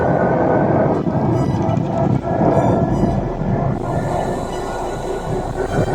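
Loud wind rush and road rumble from a DIY e-bike with a 350W 48V brushed front hub motor running on throttle, including a rising whine partway through and no talk.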